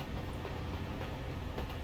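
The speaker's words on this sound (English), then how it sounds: "I hear a train." A train passes in the video game American Truck Simulator, a steady low rumble with faint rhythmic rail clatter, moderately distant and continuous, without talk.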